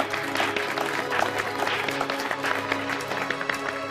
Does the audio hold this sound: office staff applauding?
yes